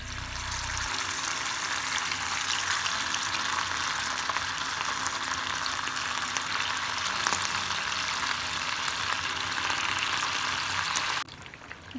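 Prawns sizzle steadily in hot oil in a pan on a gas stove, a loud, even frying hiss that runs unbroken and then cuts off sharply near the end.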